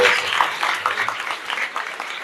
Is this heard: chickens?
no